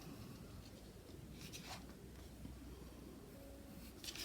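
Pencil tracing around a template on paper, with soft scratchy strokes in short bursts over a quiet steady hiss, close and faint.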